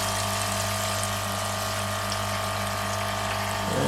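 An aquarium filter pump pushing water into a UV light: a loud, continuous mechanical hum with a gurgling wash of water throughout and a slight shift in tone at the end, no voices.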